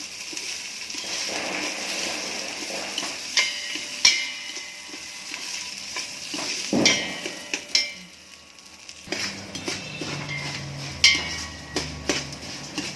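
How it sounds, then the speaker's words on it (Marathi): Basmati rice is dry-roasted in a pan over high heat and stirred with a spoon for kheer, with a soft steady sizzle under intermittent scraping and clinks of the spoon against the pan, close up, no talk. "आपले आता हे तांदूळ थोडे भाजत आलेले हलके झालेत"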